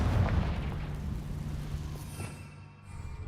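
A Confringo blasting spell explodes in a Harry Potter video game, a deep booming burst with rumbling low end that trails off into fading debris and crackle over a few seconds.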